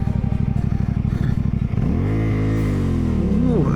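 A CFMoto adventure motorcycle engine idles with a fast, lumpy pulse, then revs up and down in rising and falling sweeps, loud and close, with no talking.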